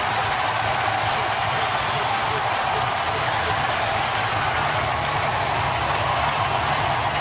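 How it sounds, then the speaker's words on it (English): A packed Busch Stadium crowd roars after a Cardinals home run against the Cubs, a dense, steady wall of cheering and noise that holds loud and unbroken throughout. "And this crowd is going crazy here at Busch Stadium."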